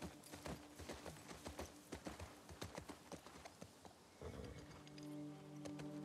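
A horse ridden in The Last of Us Part 2 clip-clops steadily on hard ground in an even rhythmic gait, the hoofbeats faint and fairly close before giving way to a low humming tone.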